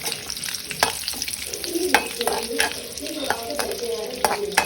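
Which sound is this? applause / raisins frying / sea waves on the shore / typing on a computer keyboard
raisins frying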